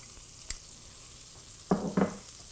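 Shallots hit a hot pan beside a pork loin roast, a faint background hiss then two quick bursts of sizzling and spattering close by, with a small click beforehand.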